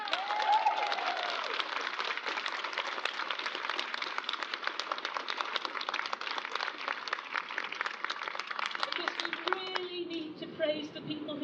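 An outdoor crowd at Speakers Corner on The Mound in Edinburgh claps in sustained, dense applause for several seconds, then fades out as a voice begins.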